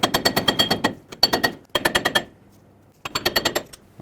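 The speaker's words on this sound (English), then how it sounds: "you can hammer a screwdriver in here" Screwdriver hammered into the ball joint cap on the front lower ball joint of a 1996-2002 Toyota 4Runner: loud, close metallic strikes in rapid bursts of about six to eight blows, separated by short pauses.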